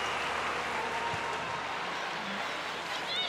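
Spectators at a women's football match between Germany and Iceland send up a distant, diffuse roar and scattered clapping, a broad steady crowd wash throughout with faint commentary over it.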